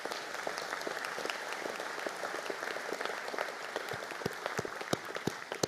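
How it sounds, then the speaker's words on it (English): An audience at a graduation conferring ceremony applauds for a graduating class, a dense, continuous patter of many hands clapping at a steady level throughout, with no speech over it. "I think we'll take them and give them the round of applause"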